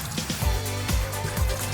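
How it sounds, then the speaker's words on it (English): Boiling water is poured from a tea kettle about a foot above onto fabric stained with red wine, giving a short, close splashing trickle with soft irregular patters. "you wanna start pouring boiling water from about a foot above, starting from the outside edge and working your way in"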